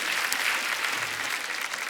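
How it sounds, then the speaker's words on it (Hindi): Studio audience applauding for arriving guests on a comedy talk show, a dense, steady wash of clapping that stays loud for the whole couple of seconds with no voices standing out. "एक बार जोरदार तालियां हमारे मेहमानों के लिए"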